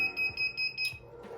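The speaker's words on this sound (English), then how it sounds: "So once it's ready, it's going to beep." A heat press signals the end of its pressing cycle with a series of evenly spaced, high electronic beeps, about five short tones in a row, clear and close with no talking.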